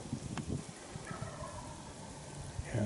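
A wild turkey gobbles in a creek bottom on public land in Nebraska during a spring hunt, faint and distant rolling calls heard over soft outdoor ambience.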